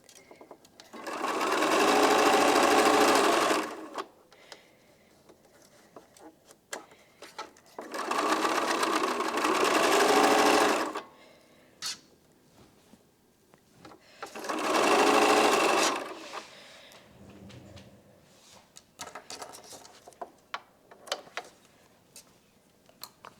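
A home sewing machine stitches the seams of a chocolate chip quilt block sewn from charm packs, running in three long loud bursts of steady mechanical whirring and ticking, separated by quieter pauses with small handling clicks.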